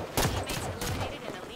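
Rapid gunfire in a Halo multiplayer match, several sharp close bursts in quick succession with a short pause between volleys, and a voice talking faintly underneath.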